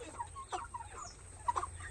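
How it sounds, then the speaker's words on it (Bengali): Two-month-old broiler chickens, about ninety-five in a farm pen, clucking softly in short scattered calls, faint and fairly close with no voices. "আর এখন এখানে 95 পিস মুরগি আছে।"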